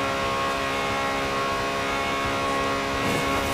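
A Ferrari F355 Berlinetta engine held near top speed gives a continuous, loud, high-pitched whine with steady tonal harmonics and no breaks or voices.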